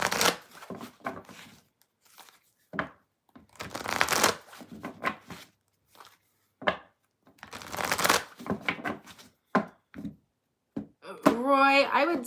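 A deck of tarot cards is shuffled in repeated riffling bursts, some long and some short, separated by pauses, close and crisp, with a voice starting to speak at the very end.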